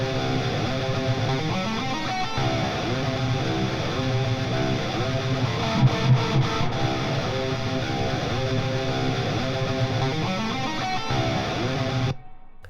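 Distorted high-gain electric guitar run through an Amped Fluff 2C Mesa Boogie-style amp plugin, heavy chugging riffs with delay and reverb adding space, loud and continuous until an abrupt stop near the end.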